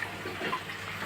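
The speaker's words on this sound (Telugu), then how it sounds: "వాటర్ వేసుకోవాలి" Water pours into a pot of tamarind-leaf chicken curry, a short, soft, continuous splashing stream heard close and alone.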